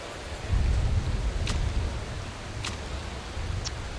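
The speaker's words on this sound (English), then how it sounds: "I don't think it's going to be raining for long." Steady rain hisses in the Motorsport Manager racing game during a wet race at the Tondela circuit. The wash is broad and even, with a deeper rumble underneath and a few short sharp ticks above it.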